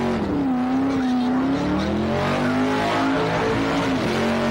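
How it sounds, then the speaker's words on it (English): A Ford street machine does a sustained burnout at a Summernats car festival, its engine roaring hard and steady with tyres skidding and squealing loudly and continuously throughout, with no talking. "Listen to that Ford, remaining crisp and strong throughout all of this abuse."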